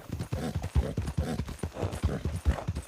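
Horse hooves clip-clopping in a video game set in grizzly and black bear country, a steady run of close, even footfalls repeating through the whole stretch with no talk over them.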